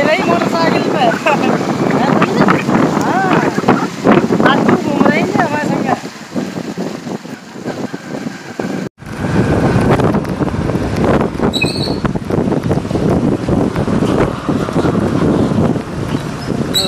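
Riding on a motorcycle with heavy, loud wind buffeting the microphone throughout, an abrupt cut midway, and voices talking under the roar in the first half.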